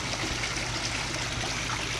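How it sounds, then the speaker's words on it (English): Water pumped through the filter of a hot tub as it fills, giving a steady, close trickling and gushing flow with a low hum underneath, continuous and even throughout, with no talk. "I'm pumping the water through that hole down there, which is one of the filters, and it's pumping it around"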